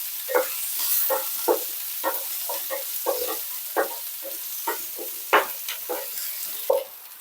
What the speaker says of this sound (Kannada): ಇದು ಲೈಟಾಗಿ ಫ್ರೈ ಆದರೆ ಸಾಕು.